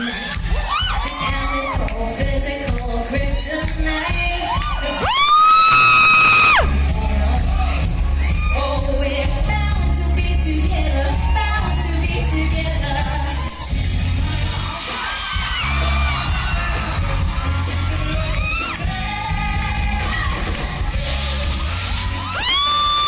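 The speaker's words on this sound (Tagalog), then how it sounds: "Sakit sa tenga ng tili mo" A woman screaming loudly at a live concert opening production, shrill sustained shrieks near the listener over loud music and crowd cheering, with a burst of especially piercing screaming partway through.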